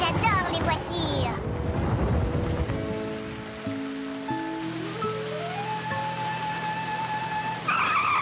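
Cartoon race car zooming and skidding, with a rising engine whine over a busy musical score, some splashy noise early on; a voice and other speech mix in briefly.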